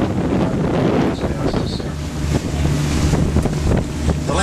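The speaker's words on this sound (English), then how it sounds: "There's a big boat today, coming." A large boat passing on the Intracoastal Waterway in Florida, its broad low rumble mixed with heavy wind buffeting and water wash, steady and fairly loud throughout.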